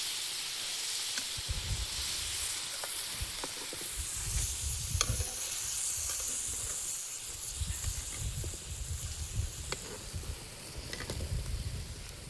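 Soaked, ground chana dal batter sizzles on a tawa, a steady dense hiss with crackles and spits running throughout, close and continuous, with no talking.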